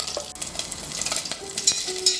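Beef browning in a pan for a stew, a steady close sizzle running throughout with scattered stirring scrapes and small pops, no one talking.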